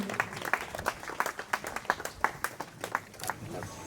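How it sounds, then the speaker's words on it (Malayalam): Audience applause at a film launch event, a steady ripple of many hands clapping throughout with scattered louder claps standing out, fairly close and continuous. "കയ്യടി കൊടുക്കുക എല്ലാവർക്കും"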